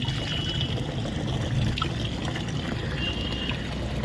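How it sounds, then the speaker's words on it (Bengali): Water is poured over dry garden plants, including a guava tree, during hot-weather watering, giving a soft, continuous trickle and splash close by with a faint low background hum. "গাছগুলো তো জল দিয়ে"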